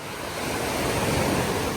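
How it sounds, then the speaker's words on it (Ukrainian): Ocean waves washing onto a small beach on an island in Thailand, a continuous broad rushing surf that swells slightly, close and steady, with no voices. "Ой, ось ці хвилі, ось це клас."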